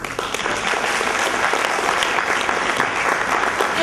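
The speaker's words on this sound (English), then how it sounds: "So listen, Ken, a round of applause." Sustained applause from a large audience at an International Women's Day event in Ghana, dense and even clapping throughout, loud and filling the space.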